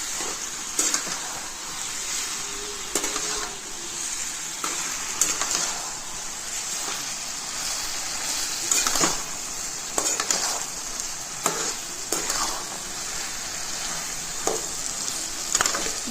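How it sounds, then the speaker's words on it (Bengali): Taro greens fry with spices, salt and turmeric, giving a constant bright sizzle broken by regular scrapes and taps of a stirring spatula. "ভালো করে আমি মশলাগুলোর সাথে কষিয়ে নিচ্ছি শাকটাকে"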